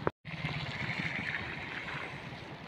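River water swollen with flow rushes beneath the Jambhale bridge in a steady, broad roar that stays close and even, heard alone after a brief cut at the start.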